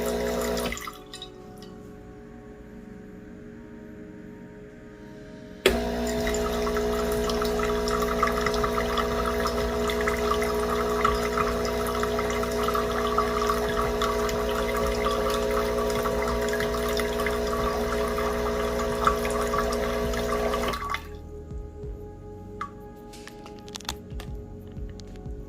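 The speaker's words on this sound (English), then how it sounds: "So now the water comes through the group head or the shower screen." A Breville Barista Pro espresso machine runs a descaling cycle, its pump humming loudly as water flows through the group head in a steady stream for about fifteen seconds. Quieter machine hum comes before and after.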